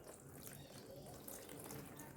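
Water is poured from a mug onto a waterproof switch, a steady close splashing and gushing stream that runs continuously throughout without talk.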